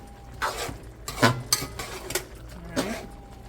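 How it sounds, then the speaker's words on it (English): A spoon stirs stewed beef in a pot, giving a few quiet, separate scrapes and clinks against the pot over a few seconds at low volume. "So we're just gonna give that a little stir."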